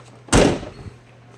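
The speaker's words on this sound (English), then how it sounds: "we should be able to shut the door." A car door on a 1991-1996 GM B-Body is swung shut once with a single loud, close thud and a short rattling decay, then quiet.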